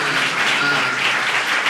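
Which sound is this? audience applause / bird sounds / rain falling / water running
audience applause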